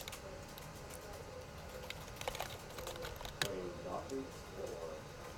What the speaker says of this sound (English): You were typing that.